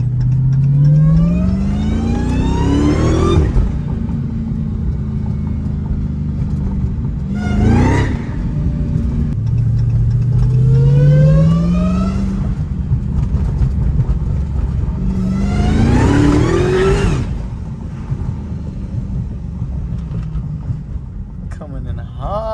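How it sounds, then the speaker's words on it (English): An 850 wheel-horsepower Chrysler 300 Hellcat revving hard and doing a rolling burnout, with loud repeated engine pulls that rise in pitch and then drop, a continuous close roar underneath, and people talking at times. "Oh, dude, rolling burnout."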